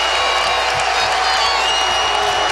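A packed basketball arena crowd at a Louisville vs Kentucky game, mostly Louisville fans, gives off a steady, dense roar of cheering and murmuring that holds without a break.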